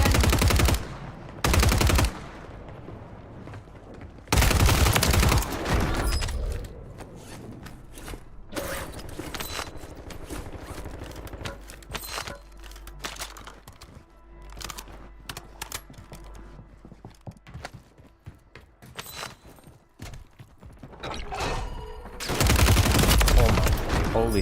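Video game gunfire comes in loud, sharp bursts at the start and again near the end, with quieter stretches of clicking and faint battle noise between them.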